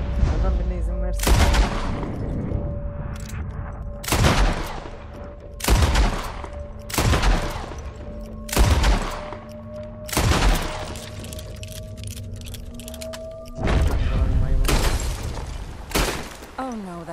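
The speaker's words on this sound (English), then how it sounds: "I'll shoot a few more this time." A series of loud, sharp gunshots in Red Dead Redemption 2, fired singly at a steady spaced rhythm, each with a booming tail over a constant background hum, and a heavier burst near the end.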